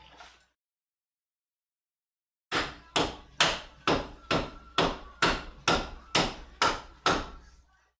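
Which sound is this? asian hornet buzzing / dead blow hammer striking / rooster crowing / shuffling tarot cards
dead blow hammer striking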